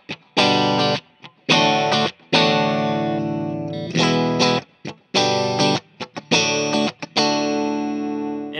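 Fender American Ultra Stratocaster, 2019 model, played with the S1 switch off: loud chords strummed in repeated bursts with short gaps between them, ringing clearly with light effects and no speech.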